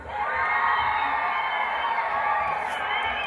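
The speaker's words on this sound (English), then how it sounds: "Let's see everybody scream." A large crowd at a band concert screams and cheers loudly and continuously, a dense wall of shouting voices that holds steady for a few seconds.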